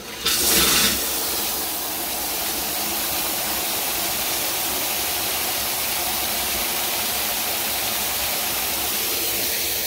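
A pump aerator switches on and water sprays steadily, a brief louder burst at the start settling into a continuous broadband hiss and rush that holds for the rest of the stretch.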